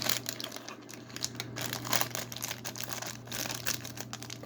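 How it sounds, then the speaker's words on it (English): Scissors snip and crinkle through stiff plastic blister packaging on a diecast toy car, with a dense run of close crackling, rustling and cutting sounds and a steady low hum underneath. "Scissors to the rescue."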